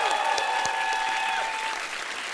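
A studio audience applauds at a Slovak television music and entertainment show, with steady, dense clapping that fills the room and fades slightly toward the end, without any talking over it.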